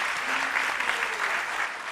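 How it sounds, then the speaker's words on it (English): Audience at Bhaktivedanta Manor applauding after a group Gita recitation on Gita Jayanti, a dense continuous wash of many hands clapping, fairly close and steady, fading slightly at the end. "Give yourselves a round of applause."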